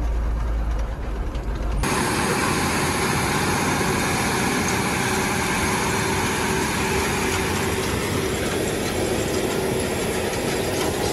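Tractor engine running steadily while cultivating land for winter wheat, a loud, constant droning rumble heard from close by with no pauses, starting abruptly after a brief lower hum.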